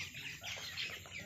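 A small, sick 20-day-old chick on a poultry farm, too weak to walk properly, gives soft, quick chirping clucks, faint and close, with no talking.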